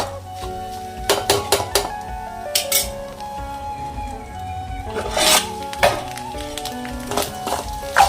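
A spoon stirs and scrapes South Indian style goat blood fry in a metal pan, giving irregular close rasping scrapes and clinks against the pan with brief louder strokes.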